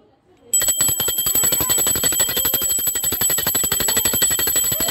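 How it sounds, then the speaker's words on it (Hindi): A small hand bell rings rapidly and continuously during a Navratri puja at home, a steady bright jangling that starts abruptly after a brief quiet moment and keeps going loud and close. "घंटी बजाना है"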